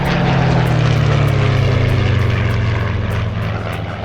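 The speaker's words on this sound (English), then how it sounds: "We've got a pair of Spitfires." A pair of Spitfire warplanes roar past at an airshow, a loud continuous propeller-engine drone filling the whole stretch and fading slightly at the end.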